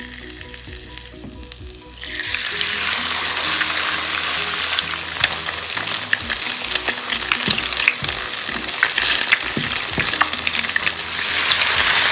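Potato pancakes fry in an oiled pan over medium heat, with a dense crackling sizzle that starts after a quiet couple of seconds and then holds steady, close and fairly loud, with occasional louder pops.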